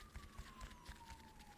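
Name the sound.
distant siren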